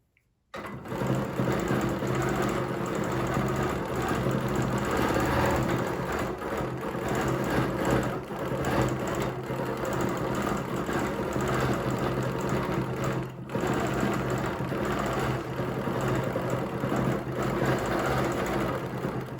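A sewing machine quilting with a ruler foot runs almost nonstop for nearly twenty seconds, a close, steady mechanical hum and rapid needle rattle with only a momentary dip midway.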